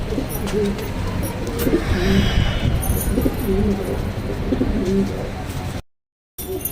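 Many pigeons coo steadily inside a loft that holds around 80 to 90 birds, a dense, continuous murmur of overlapping calls with occasional wing flutters and faint background voices.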